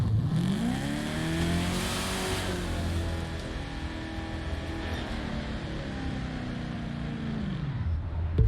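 A 2018–2019 Chevrolet Camaro ZL1 engine revs loudly and close up, its pitch climbing and holding before easing back down over several seconds, with no voices.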